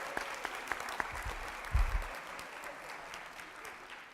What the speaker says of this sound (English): Can we get them a round of applause?